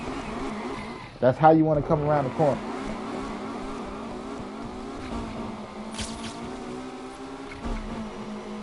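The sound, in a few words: car engine revving while drifting, Need for Speed Unbound video game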